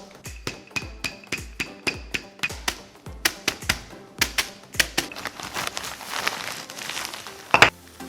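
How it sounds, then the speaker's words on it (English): Twenty Oreo cookies crushed in a plastic bag: a steady run of sharp, loud thumps and crunches at a regular beat, turning into looser crinkling and crackling of the bag and crumbs near the end. "we are going to get 20 Oreos and crush it in this bag"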